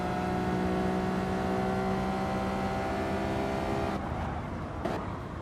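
Race car in Gran Turismo Sport at Red Bull Ring, a loud sustained engine drone with a steady high tonal whine that shifts near the end as another car passes close by.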